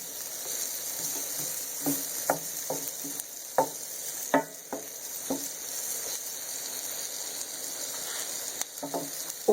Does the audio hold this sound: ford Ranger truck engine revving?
no